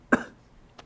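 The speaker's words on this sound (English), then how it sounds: "excuse me as I cough." A single short human cough, close and fairly loud, followed by a faint breath or second soft throat sound, heard alone in a quiet room.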